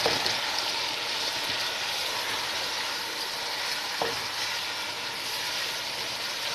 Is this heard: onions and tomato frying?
yes